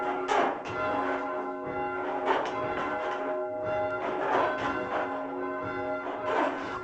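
Church bells rung in changes at Old North Church, also called Christ Church, in Boston, sound a steady cascade of clear ringing strikes in overlapping sequence, fairly distant and resonant, with no voices.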